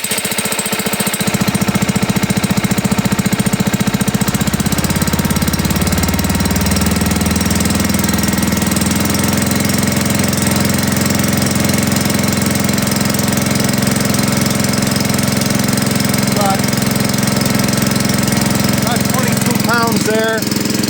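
An engine idling at a vacuum pump and releaser setup on a farm, a loud steady low-pitched chugging hum that settles after a few seconds and runs on continuously, with a brief louder knock early and faint clinks near the end.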